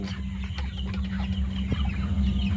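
Tiger chickens on a Bengali chicken farm cluck in a busy flock over a steady low mechanical hum, with scattered short calls throughout.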